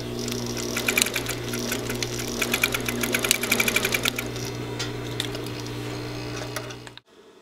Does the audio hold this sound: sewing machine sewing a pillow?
yes